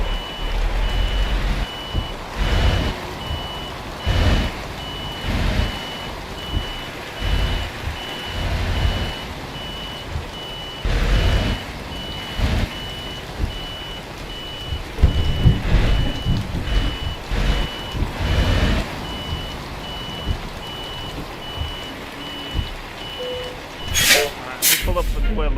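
Reversing beeps from a Scania V8 truck with a third axle in Euro Truck Simulator 2, a steady repeating pulse under continuous engine rumble, with someone talking throughout.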